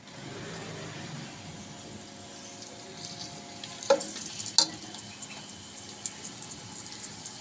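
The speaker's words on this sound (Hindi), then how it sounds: "ये देखिए, चिकन फ्राई हो रहा है" Chicken fries with vegetables in a home kitchen pan, making a quiet steady sizzle with a few sharp clinks and scrapes partway through, with no talking.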